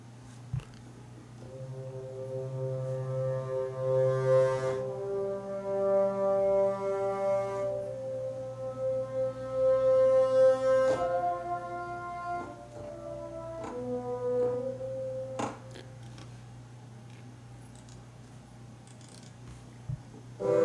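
A sampled bassoon ensemble plays sustained low reed-like notes together in a slow, swelling phrase, changing chords every few seconds with no voices.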